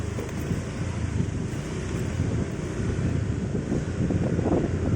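Strong wind roars steadily against the microphone, a constant heavy rumble with no voices.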